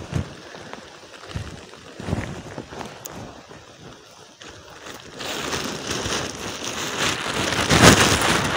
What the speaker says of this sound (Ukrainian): Пасмурну, дощ.